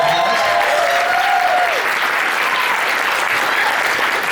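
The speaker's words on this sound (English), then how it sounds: "Give them a big round of applause." A crowd at a charity event for the Christina Grimmie Foundation gives loud, sustained applause that runs the whole way through, with a faint cheer near the start.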